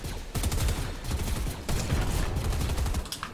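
Rapid bursts of gunfire in the video game Fortnite, loud and nearly continuous, with sharp volleys clustered through the whole stretch and a brief lull mid-way.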